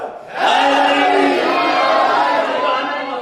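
A crowd at a majlis in Kharoliyaan, Sialkot, chants slogans in unison, a loud sustained chorus of many voices rising sharply and holding for a few seconds.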